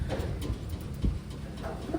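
Pigeons, a hen and cock, give soft low coos in short repeated bursts, close by with a faint hiss of background noise.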